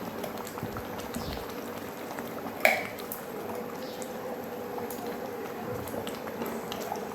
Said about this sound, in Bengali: এবার আমি ঢাকনাটা খুলে দেখে নিই, একদম টকবক করে ফুটছে।